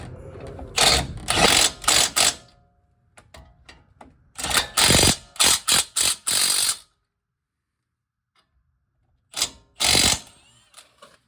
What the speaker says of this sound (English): I'm gonna tighten them bracket bolts.